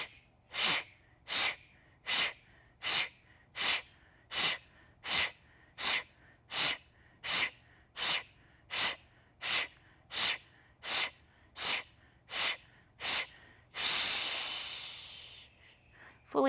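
Rhythmic yoga breathing, a long run of sharp, evenly spaced breaths pushed out through the nose at about one per second, close and clear, then a longer drawn-out exhale at the end.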